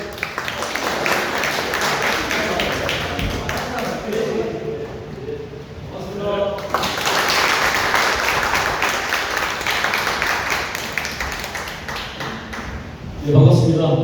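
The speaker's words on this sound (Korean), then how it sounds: "큰 박수 보내주는 거, 이런 걸로 합시다" A room of party members claps for a candidate at a provincial party chair election meeting in a YMCA hall in Gumi, Korea. Scattered clapping and tapping run through much of the stretch, with people talking over it.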